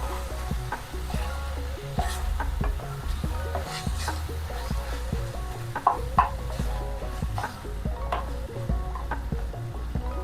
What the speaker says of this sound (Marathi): ह्याच्यामध्ये आपण मेथी परतून घेतलेली टाकायचे आणि हे व्यवस्थित मिक्स करून घेऊ